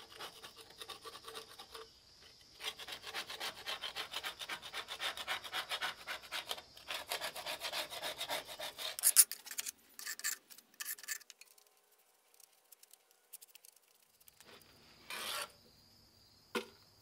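Someone scrapes and cleans the bottom gasket surface of a cracked radiator on a 1950s Cat machine, making rapid rasping strokes in bursts with pauses, then a few scattered scrapes and a last short flurry, close and fairly quiet.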